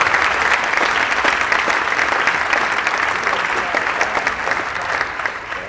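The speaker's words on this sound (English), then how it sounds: "So let's applaud them." A crowd applauds Daemen College becoming an active NCAA Division II member, loud dense clapping from start to finish, easing slightly toward the end, with no talk over it.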